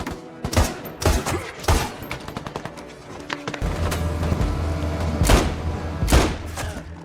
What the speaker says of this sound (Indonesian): Kemudian terjadilah baku tembak di antara mereka